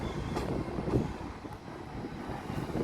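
A Class 802 passenger train arrives at Hereford station, a low, faint rumble of rolling wheels and engine drone heard from the platform.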